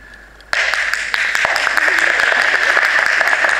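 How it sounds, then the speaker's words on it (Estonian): Audience applause breaks out suddenly and continues as loud, dense, sustained clapping from a large crowd in a sports and culture hall. "See ei ole plaksutamise koht."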